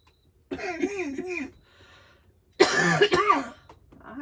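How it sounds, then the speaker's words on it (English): Two separate bouts of harsh, voiced coughing, close to the listener, with a short quiet pause between them. "I do not know about this cough."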